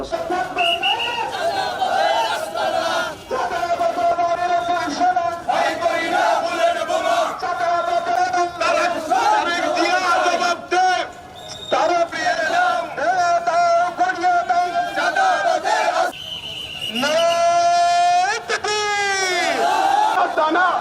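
A crowd at a street protest march in Gopalganj, Bangladesh chants slogans in loud call-and-response waves, with a whistle and shouting voices throughout.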